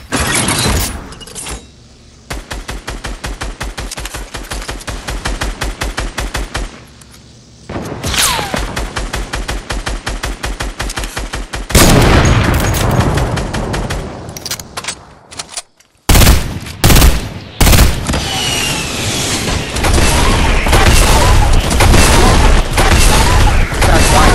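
Rapid bursts of automatic gunfire and heavy booms from a video game battle, loud and sustained with brief gaps, rising into dense chaotic firing and explosions toward the end.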